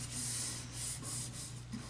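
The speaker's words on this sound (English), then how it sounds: "by just sanding on the sides to give it a little more room" Steady scratchy rubbing of sandpaper on the sides of a wooden jewelry case part in a few back-and-forth strokes, close by and fairly quiet.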